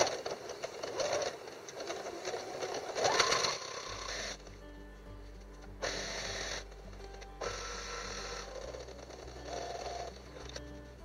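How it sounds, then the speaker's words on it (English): A sewing machine runs steadily while double stitching a reusable fabric baggie, its motor whirring close up in several bursts separated by brief pauses, with no talking. "And I am going to double stitch because it's going to take a lot of wear and tear."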